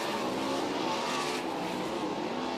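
A 360 sprint race car roars around a dirt racetrack during hot laps at a winter nationals event, its engine a loud, continuous high-pitched drone with engine harmonics steady throughout, close and dominant with no talk.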